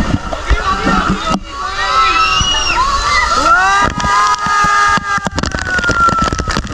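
Water pours and sloshes down from a large tipping bucket at a water park family pool, a rushing splash amid lively crowd noise, with someone talking over it.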